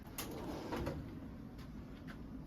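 A drawer slides open in a quiet library, giving a faint wooden scrape and a few soft knocks against low room noise.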